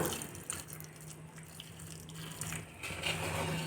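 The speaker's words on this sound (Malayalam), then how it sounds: "ഇനി ഇതിലേക്ക് നമ്മൾ നല്ല തിളച്ച ചൂടുവെള്ളം ഒഴിച്ചു കൊടുക്കാൻ പോവാണ് കേട്ടോ" Boiling hot water is poured into a bowl, making a quiet continuous watery rush and trickle at close range, with no voices.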